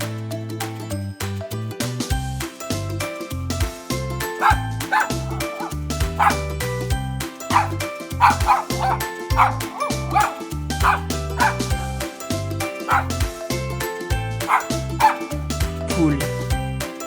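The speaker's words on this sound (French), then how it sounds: "Chien." A dog barks and yips repeatedly in quick bursts, with some whimpering, set against steady background music.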